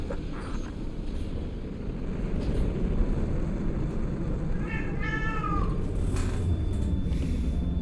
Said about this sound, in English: Freaking cat.